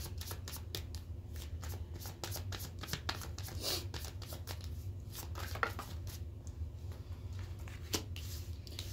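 Tarot cards being shuffled by hand, a steady run of crisp riffling flicks and soft slaps at close range with no talking.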